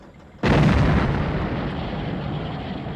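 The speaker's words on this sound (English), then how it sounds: "there's an unconvincing explosion of the trailer followed by another unconvincing explosion of the truck itself" A truck explodes in the film Maximum Overdrive: one sudden heavy boom bursts in after a quiet moment, then a dense roaring rumble of fire and debris carries on loud until it cuts off.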